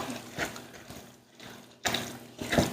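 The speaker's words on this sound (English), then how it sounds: "So I'm just going to give it a nice, vigorous stir." Thick, lumpy apple-raisin oat muffin batter is stirred hard in a bowl, giving close, irregular scraping and squelching strokes with a short pause in the middle.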